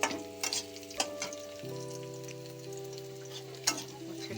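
Bitter gourd pieces fry gently in oil in a pan for Bengali shukto, a soft steady sizzle with a few sharp clicks and knocks, while a low humming tone runs underneath; no voices.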